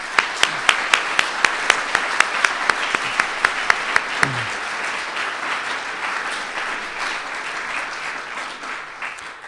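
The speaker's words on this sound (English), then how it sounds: "please give them a very strong round of applause." Audience at the 2012 Dartmouth Model United Nations Conference breaks into a strong round of applause, dense clapping that swells and holds steady, with a few sharper close claps standing out early before the crowd sound evens out.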